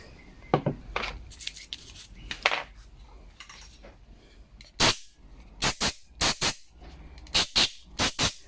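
Compressed air hisses onto a Stihl FS36 trimmer carburetor part during a rebuild, first in softer scattered puffs and then in a series of sharp, loud, short bursts in quick succession.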